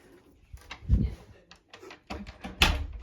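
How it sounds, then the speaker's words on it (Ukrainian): A door is swung shut in a home room holding a terrarium, making two distinct knocking thumps about a second and a half apart, close by, among quieter handling noises. "Я закрию двері, тому що вони мені заважають."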